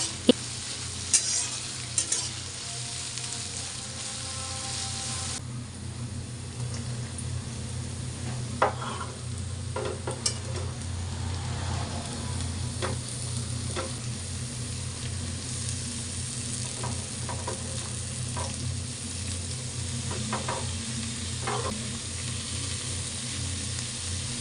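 Chopped carrots, beans, green capsicum and red capsicum stir-fried in oil for fried rice: a continuous sizzle with intermittent scraping and clinks of a spatula against the pan, nearby and steady, a low hum underneath, no talking.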